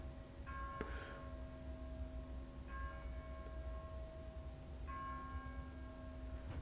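Church bells ring out inside or near an old manor, three separate tolling strikes spaced a couple of seconds apart, each leaving a long humming tone in an otherwise quiet space.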